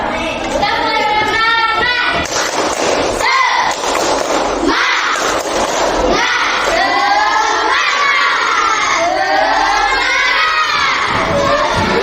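A classroom of children led by their class leader shouts a spirited clapping chant, loud and energetic, with overlapping young voices, cheering and rhythmic claps throughout.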